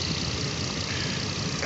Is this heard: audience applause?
no